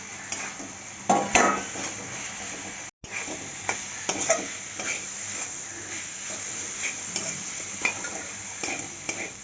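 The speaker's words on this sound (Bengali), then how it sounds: "কপির ডাটাটা দিয়ে একটু ভালো করে নাড়িয়ে" Cauliflower stalks are stirred into spiced, oil-released masala in a pan, giving a close, busy sizzle with repeated scraping and clinking of a spoon against the pan, briefly dropping out once, with no talking.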